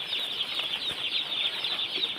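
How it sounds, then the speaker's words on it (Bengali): A chick on a chicken farm gives soft, repeated high peeping calls in a steady run, moderately loud and close, heard alone without speech. "একটা মুরগি বাচ্চাটা দেখি সুন্দর।"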